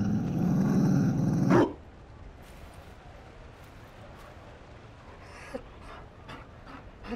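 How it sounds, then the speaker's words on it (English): A Mabari war dog in Dragon Age: Inquisition pants heavily and rhythmically up close for about a second and a half, followed by quiet ambience with faint scattered clicks. "You found a dog."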